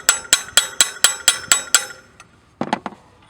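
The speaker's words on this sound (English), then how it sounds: "I'm going to take the little hammer, and I want to hit that" A small hammer strikes a metal punch held against a tractor assist-handle bracket, marking a spot to drill: eight sharp, evenly spaced metallic taps close up, then a faint tap and a quick cluster of three lighter knocks.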